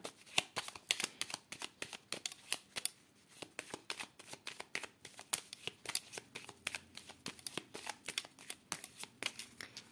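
Tarot cards are shuffled and cut close up: a quick, regular run of crisp riffling slaps and flutters, repeated many times over about ten seconds, with no voice over them.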